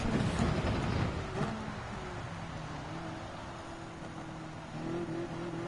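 A Ferrari 458 Italia GT3 race car in Gran Turismo 7 at Red Bull Ring holds a steady engine drone with rising tonal revs, continuous and moderately loud without voices.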